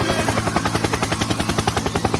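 Helicopter rotor thudding in a fast, even rhythm, loud and close, with a broad engine roar underneath and no voices.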